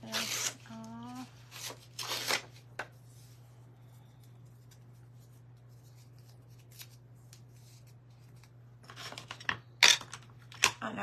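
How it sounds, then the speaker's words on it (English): Paper tearing for a handmade junk journal cover from a 12x12 sheet: a few short, crisp rips near the start and again at the end, separated by a long quiet stretch over a steady low hum. "Maybe we tear some of this off."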